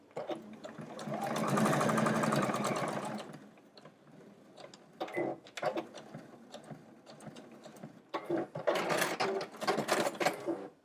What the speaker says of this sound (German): Ich nähe bis dahin und verriegle.